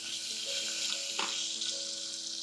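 Green chilli strips and curry leaves sizzle in hot oil for tempering, a steady close crackling fry with a brief louder spit partway through, no voices.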